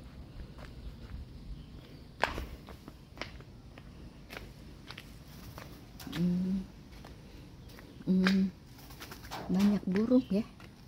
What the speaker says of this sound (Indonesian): Banyak burung ya.